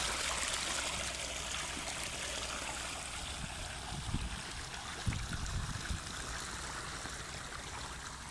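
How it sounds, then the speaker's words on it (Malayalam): Irrigation water runs steadily through an open channel into a farm field in Oman, a constant rushing, trickling flow heard close and alone, with a few faint knocks and splashes near the middle. "ആവശ്യത്തിനുള്ള വെള്ളം ഇതിലേക്ക് പോയിക്കൊണ്ടിരിക്കും."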